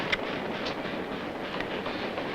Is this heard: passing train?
yes